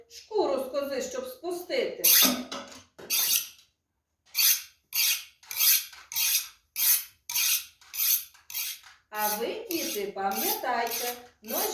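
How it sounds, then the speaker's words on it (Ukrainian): A blade scrapes rhythmically against a sharpener, about a dozen bright strokes in steady succession, with a voice speaking before and after. "Тут дід уже все зрозумів і пішов ножа гострити."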